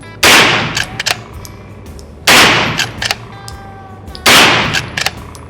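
Three loud gunshots ring out from a POF lever-action gun, evenly spaced about two seconds apart, each a sharp close blast with a trailing echo and faint mechanical clicks between.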